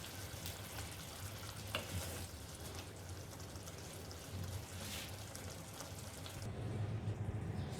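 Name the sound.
masala with fenugreek cooking covered on low heat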